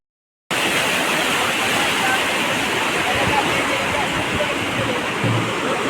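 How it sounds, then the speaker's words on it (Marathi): Swollen river floodwater rushes near the Bhivai Devi temple at Kambleshwar, a loud continuous roar that starts abruptly and holds steady, with a voice speaking over it. "तुम्ही बघा किती पाणी वाढलेलं आहे"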